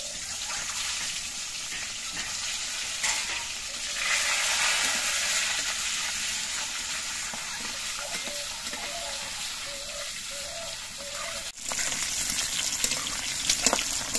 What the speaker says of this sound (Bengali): এবার তেলের মধ্যে ডিমগুলো দিয়ে আমি ডিমগুলো ভেজে নিচ্ছি